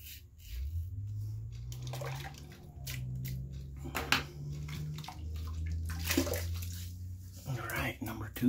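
Water running from a tap to rinse a razor during a wet shave, close flowing and splashing in several short bursts with pauses between, and someone talking quietly at times.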